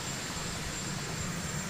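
A helicopter idles or runs nearby as a steady, dense, loud roar with a faint high whine throughout, unbroken and with no voices over it.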